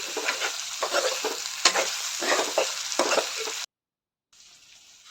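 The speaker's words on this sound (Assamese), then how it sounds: "আৰু এতিয়া আদা ৰহুনৰ পেষ্টখিনি দি দিলে।" Ginger garlic paste hits a hot frying pan with loud sizzling and bursts of stirring, close up, before the sound cuts out briefly and returns as quieter frying while preparing a pork and sesame dish.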